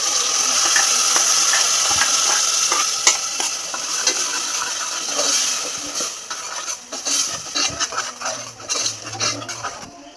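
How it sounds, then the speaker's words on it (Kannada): Masala frying and being stirred in a pan for a home-cooked dinner, with steady sizzling, close scraping and stirring, and occasional clinks of utensil on metal. "ಇದು ಫ್ರೈ ಆಗಿದೆ, ಈ ಮಸಾಲೆ ಹಾಕ್ತೀನಿ."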